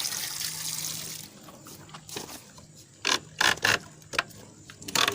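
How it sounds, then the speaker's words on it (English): Water being let out of a cloudy, dirty home pool system at the multiport valve makes a soft trickling rush, followed by several short bursts of gushing and mechanical clicks. "I'm gonna let out some water right here, so you might want to wash your feet."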